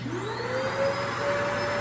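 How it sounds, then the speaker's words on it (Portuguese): A shop vacuum starts up and runs steadily, a loud close whine rising in pitch as the motor spools up, then holding an even drone with no talk over it. "ligar o aspirador"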